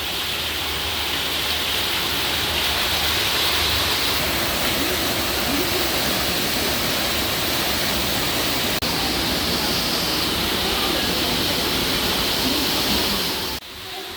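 A large waterfall pours in a continuous, loud rush of crashing water, heard from a walkway inside the falls during summer, with no let-up until a brief drop at the very end.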